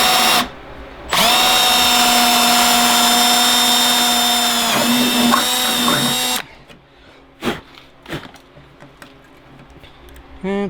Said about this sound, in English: Drill it out.